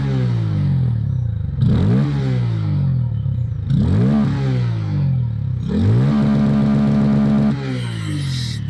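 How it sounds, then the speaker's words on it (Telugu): Bajaj Pulsar N160 motorcycle with an underbelly exhaust, revved repeatedly: three or four rising throttle blips over a steady idle, close and loud, with no talk. "ఫస్ట్ అయితే మీకు ఈ బైక్ ఎగ్జాస్ట్ సౌండ్ వినిపిస్తాను చూడండి."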